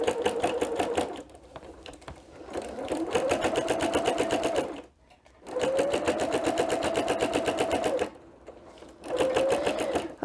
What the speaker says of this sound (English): And then you're just going to keep sewing.